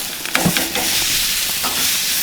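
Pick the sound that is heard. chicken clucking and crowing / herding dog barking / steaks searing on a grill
steaks searing on a grill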